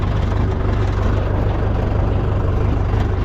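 A tractor engine running steadily close by on a farm, a loud low rumble with a rapid even throb and no pauses, heard alone without talk.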